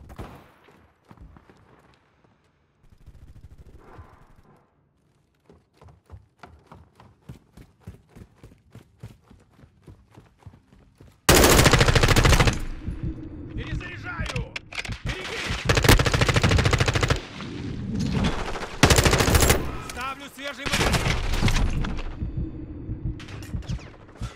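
Machine gun fire in Call of Duty: Modern Warfare II opens with quieter rapid bursts. Loud, sustained automatic gunfire and explosions follow, with little talking.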